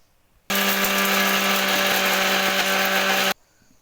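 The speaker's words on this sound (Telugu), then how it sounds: "కట్ చేసి పెట్టుకున్నటువంటి కొబ్బరి అందులో వేసుకొని మిక్సీ పట్టుకోవాలండి." A kitchen mixer grinder grinds cut coconut pieces, a loud, close, steady motor whir lasting about three seconds that starts and stops abruptly.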